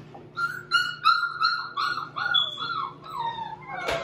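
Little street puppies whimper and yelp in a run of high, wavering cries, close and fairly loud, with a sharper bark near the end.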